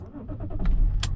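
A car engine starts up at close range, with a soft cranking whir that swells into a loud rumble as it catches and settles into idle.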